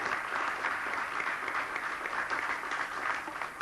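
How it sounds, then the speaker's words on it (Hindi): Steady applause from an audience at a spiritual dedication ceremony in a hall, a continuous moderately loud wash of many hands clapping with no talk over it. "आप भी ताली बजाइएगा जोर से एक बार"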